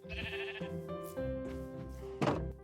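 Minecraft sheep bleat several times in a row, close and clear, each wavering call over a soft game music background, with a brief thump near the end.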